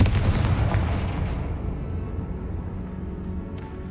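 A Confringo blasting spell explodes in Hogwarts Legacy, a loud, close burst that rolls into a long, fading rumble with no voices.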